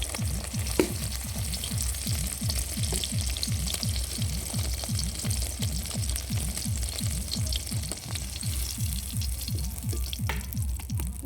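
Cauliflower pieces frying in oil in a pan give a steady close sizzle with fine crackles, under a regular low rhythmic thumping that runs all the way through, and no one speaks.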